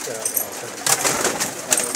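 Pigeon cooing among a pigeon keeper's flock of commercial pigeons, soft repeated coos with a louder burst toward the middle, under faint background voices.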